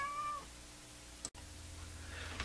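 Cat meowing indoors near an old Hammarlund SP-600 communications receiver workbench, a short clear meow at the start followed by quieter background noise and a brief click.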